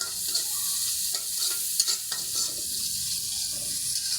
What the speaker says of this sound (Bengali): আর একদম এটা আমি লাল লাল করে ভেজে নেব।